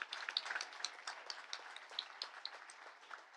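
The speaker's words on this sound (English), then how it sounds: "Round of applause for all of them" An audience at a cannabis industry awards event claps for the operator award winners, a faint, steady patter of applause from a small crowd in a room.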